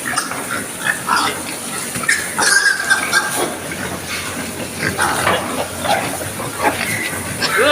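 Pigs on a farm grunt and squeal in the early morning, with a steady chorus of oinks and sharp squeals rising now and then over a hissy, busy pen background.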